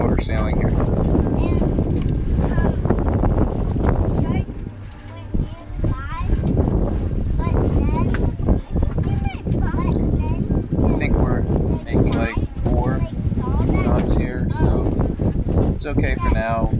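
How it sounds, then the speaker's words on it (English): Wind rushes across the microphone aboard a sailboat motor sailing into a light southwest wind, a continuous loud buffeting under nearly constant talk from a person on board. "Winds are pretty light out of the southwest, so we're into the wind and right on the cusp of motor sailing here."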